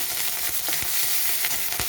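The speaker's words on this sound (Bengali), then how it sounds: "তারপর আমি দিয়ে দেব কেটে রাখা কাঁচা লঙ্কা আর গ্রেট করে রাখা আদা আদাটাকে একটু ভালো করে ভেজে নিই" Grated ginger and chopped green chillies fry in hot oil in a home kitchen, giving a steady, close crackling sizzle with no voices.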